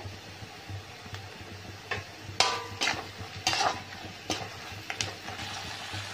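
Turmeric powder, asafoetida and fenugreek powder stirred and sautéing in a pan, a soft sizzle with several scraping spoon strokes against metal, fairly close, with a low steady hum underneath.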